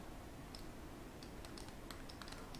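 Computer keyboard keys pressed while modelling and sculpting a cute rabbit in Blender 3D software: a loose series of faint, light clicks, spread out over a steady quiet background with no talking.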